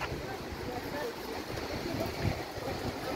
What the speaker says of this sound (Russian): Хорошая, мощная река.